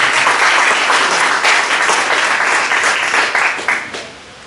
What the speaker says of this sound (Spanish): No sé si usted le puede dar una ofrenda de palmas al Señor esta mañana